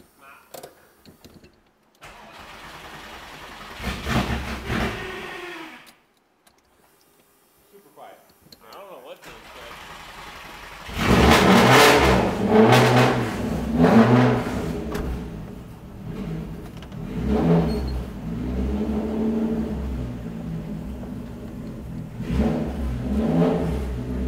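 A Volkswagen/Audi car engine in a Euro car shop cranks and catches, then revs in loud, rising surges that dominate, with quieter stretches of talk and handling noise before it fires.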